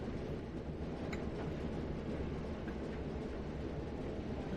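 A freight train rumbles toward the listener in Train Sim World on the Blackpool Branches route, a steady broad low roar that fills the whole stretch with no change or break.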